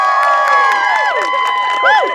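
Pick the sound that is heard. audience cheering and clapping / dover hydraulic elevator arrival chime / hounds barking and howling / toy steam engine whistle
audience cheering and clapping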